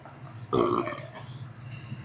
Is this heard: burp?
yes